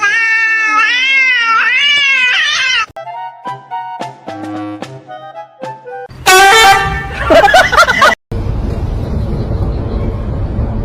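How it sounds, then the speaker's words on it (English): A cat lets out high-pitched meows that rise and fall in a long wavering cry. Short honks and other loud, shrill sounds follow in a jumbled mix. "My cat's meow is so high-pitched"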